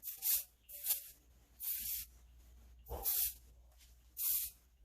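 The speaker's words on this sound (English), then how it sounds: "holding spray. I'm just gonna use a little bit." Several short hissing bursts of hairspray on a wig, about five, spaced unevenly with quiet gaps, close and fairly loud, no voices.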